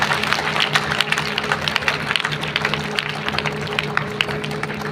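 An audience at a school Republic Day speech claps continuously in a dense, steady patter of many hands, close and fairly loud, with a faint hum underneath and no speech.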